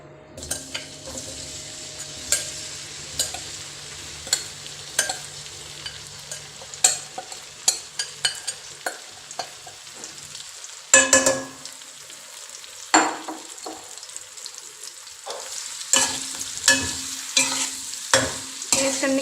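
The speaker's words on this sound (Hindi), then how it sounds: "ऑयल थोड़ा गर्म हो जाए उसके बाद आपने अपनी जो है वो भिंडी को इसके अंदर ऐड कर लेना है।" Okra (bhindi) frying in hot oil in a pan: a steady sizzle runs throughout, broken by repeated scrapes and clinks of stirring, louder and busier in the second half.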